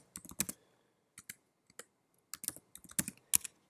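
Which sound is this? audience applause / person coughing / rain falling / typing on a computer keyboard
typing on a computer keyboard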